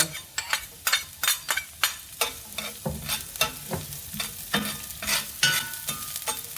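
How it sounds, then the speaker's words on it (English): Shallot and garlic frying in a pan, a soft sizzle broken by a rapid series of sharp utensil scrapes and stirring knocks, close and fairly quiet, with no talking. "I'm just going to fry this for 2 to 3 minutes"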